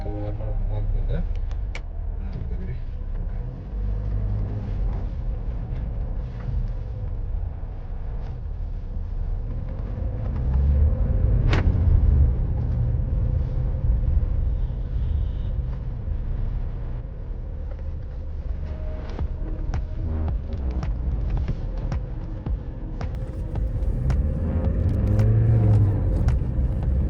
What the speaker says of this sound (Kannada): ಕ್ಲಚ್ ಎಲ್ಲ ಫಿಕ್ಸ್ ಮಾಡಿಬಿಟ್ಟು ಸೊ ಇವಾಗ ಗಾಡಿ ಟೆಸ್ಟಾಗಿ ಹೋಗ್ತಾ ಇದ್ವಿ